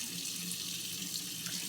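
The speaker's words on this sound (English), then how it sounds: "And then I just wash it out, wash out the inside." Water pours steadily from a kitchen tap while a whole turkey is rinsed out inside and held over the sink, a continuous close hiss and splash with no talking.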